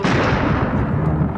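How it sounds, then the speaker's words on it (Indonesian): A thundering cannon blast rolls out from a pirate ship attack on a merchant vessel, a loud, dense, low rumble that fills the whole moment without pause. "Ketika tiba-tiba dikejutkan suara meriam yang menggelegar."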